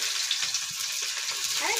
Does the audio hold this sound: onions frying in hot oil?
yes